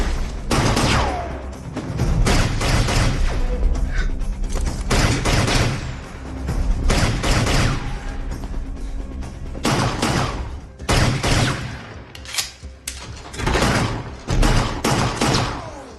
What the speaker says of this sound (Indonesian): Gereja yang suci itu kini berubah menjadi arena baku tembak.